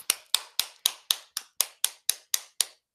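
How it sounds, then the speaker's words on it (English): A small group claps in slow, even unison for about eleven sharp beats during a children's online social studies class, crisp and close with silence between claps. "I want to give everyone a round of applause."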